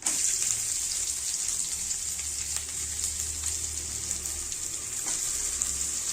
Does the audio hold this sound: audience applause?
no